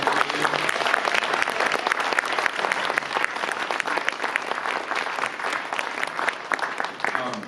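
Audience applause for a panel of speakers at a Q&A event, a dense, steady round of clapping filling the room for several seconds, close and loud throughout.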